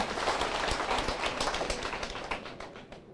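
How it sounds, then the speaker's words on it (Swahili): A crowd claps together in a dense, steady burst of applause that fades slightly toward the end. "tumpige makofi"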